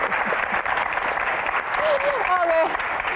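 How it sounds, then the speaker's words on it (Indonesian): Audience applause at an Indonesian stand-up comedy Q&A show, steady clapping filling the room throughout, with cheers and voices mixed in near the end. "Oke, tepuk tangan."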